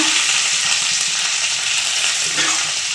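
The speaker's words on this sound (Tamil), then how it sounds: "கடுகு நல்லா பொரிஞ்சிருச்சு இப்போ நம்ம மிளகா சேர்த்துக்கலாம்" Mustard seeds, dried red chillies and curry leaves crackle and sizzle in hot oil, a dense, steady frying hiss with popping seeds running close and loud throughout, no voices.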